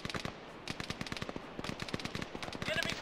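Rapid bursts of automatic gunfire from the ArmA 3 combat game, sharp repeated cracks in quick rhythm through the whole stretch, with distant shots and a voice briefly heard among them.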